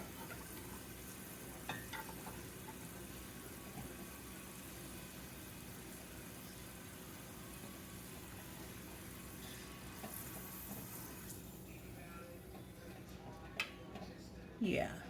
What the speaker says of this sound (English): now that the oil is frying the heck out of my onion